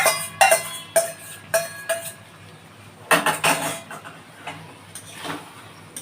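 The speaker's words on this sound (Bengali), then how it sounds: "এবারে আমি এই যে ভাজা যে আলুগুলো আছে এই ভাজা আলুগুলো আমি ঢেলে দিচ্ছি এর মধ্যে।" Fried potatoes are tipped into a pan of spiced okra, with a series of loud, close metallic clanks and scrapes of a utensil against the pan, irregular and fairly sharp.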